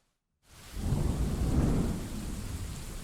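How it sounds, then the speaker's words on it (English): A thunderstorm with heavy rain that starts abruptly after a brief silence, a dense roar of rainfall with deep thunder rumbling underneath, loud and sustained to the end. "The storm is messed up, man."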